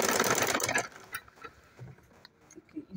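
A sewing machine stitches a homemade travel bag in a short close burst at the start, then stops, leaving faint clicks and handling noises.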